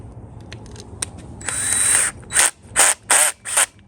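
Drill chuck being ratcheted while a bit is swapped during Corian countertop fabrication: a buzzy whir followed by four short, distinct clicking bursts, close up with no talking.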